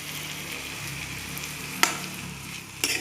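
Food sizzles steadily in a covered pan on a home stove while dinner is cooked, with two brief sharp clatters of a spoon stirring the pan or a lid being moved, close and moderately loud, no voices.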